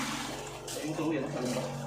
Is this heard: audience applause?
no